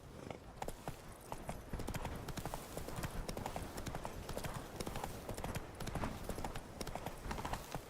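Roach the horse from The Witcher 3 gallops with a quick, continuous clip-clop of hooves, moderately loud and near, over a busy outdoor background.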